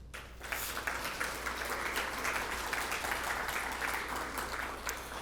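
Steady audience applause fills a press conference room for a Fuel the Cause event, a dense, even wash of clapping from many hands that holds at a constant level throughout.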